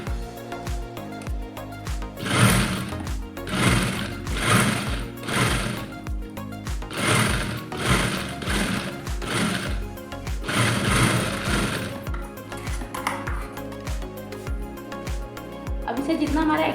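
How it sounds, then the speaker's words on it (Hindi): A sewing machine runs stitching the edge of a plain lined blouse, in repeated bursts of rapid whirring that start and stop, with someone talking over it. "और फिर किनारे की सिलाई मारनी है।"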